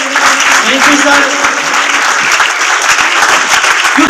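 Audience applause at a school retirement farewell at Government Primary School Irrigation Colony, Usta Muhammad: loud, steady clapping from many hands for about four seconds, with voices mixed in.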